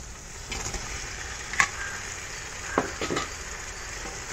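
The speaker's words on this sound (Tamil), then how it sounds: "இப்போ இது மாதிரி டைமில் தான் நம்ம நறுக்கி வச்சுருந்த தக்காளி இதில் சேர்த்துக்கணும்." Chopped tomatoes tipped into a pan of onion, ginger and garlic frying for chicken biryani, giving a steady sizzle broken by a few sharp clinks and stirring scrapes.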